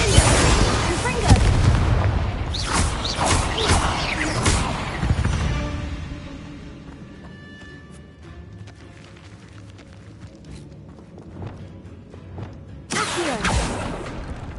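Confringo fire spell blasts in Hogwarts Legacy, loud booming bursts in a dense cluster early, a quieter rumbling stretch, then another sharp blast near the end.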